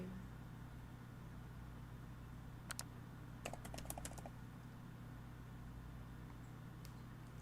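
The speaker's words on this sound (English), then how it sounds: "he is texting York" Soft tapping of phone keys in a couple of short bursts over a steady low hum, fairly quiet and close.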